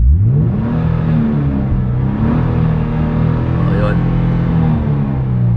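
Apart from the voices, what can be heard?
2010 Hyundai Genesis V6 coupe engine revving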